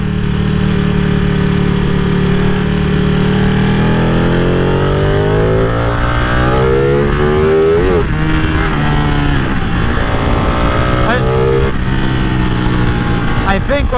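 A Ducati 959 Panigale motorcycle accelerates hard through second gear on a Pennsylvania road, its loud engine note climbing steadily in pitch, then roughening midway as the revs fluctuate, with wind rush throughout.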